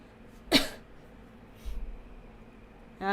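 A single short cough up close, followed by quiet breathing and a faint low rumble.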